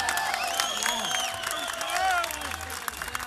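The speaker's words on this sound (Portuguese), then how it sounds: "uma salva de palmas para os técnicos" A concert crowd at the Avante festival claps and cheers for the technicians after a technical fault, a dense wash of applause with whistles and shouting voices mixed through it, steady and loud for the whole stretch.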